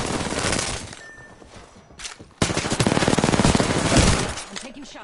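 Video game gunfire in rapid automatic bursts, loud and close, with a quieter gap before a dense second volley.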